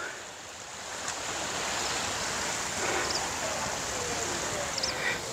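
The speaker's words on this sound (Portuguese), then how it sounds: "Apresento-lhes Mar Báltico." Waves from the Baltic Sea wash onto a beach, a steady, moderately loud surf rush mixed with wind noise buffeting the microphone, with faint, indistinct background sounds.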